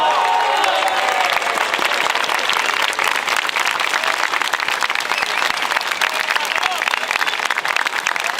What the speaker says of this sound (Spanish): ver si empezamos a aplaudir que llegó Javier Milei, por favor